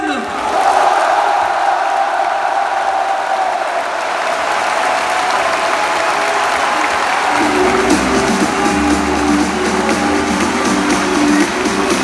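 A large crowd at a Trackmania Cup 2022 final applauds and cheers loudly and continuously for the finalists, with whoops and shouts rising through the clapping and a voice cutting in near the end.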